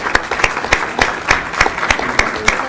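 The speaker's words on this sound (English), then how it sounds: "let's give them a round of applause for being a part of our staff" An audience at a public school board meeting claps in applause, a steady patter of individual hand claps from a modest crowd, fairly close and continuous with no talking over it.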